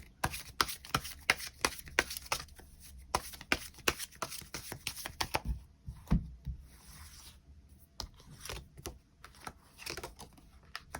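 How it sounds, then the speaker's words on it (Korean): Tarot cards are shuffled near the microphone in a quiet room, giving quick runs of crisp riffling flicks and soft slides that pause briefly and then start again, with no talking. "추가 카드 뽑아보도록 하겠습니다"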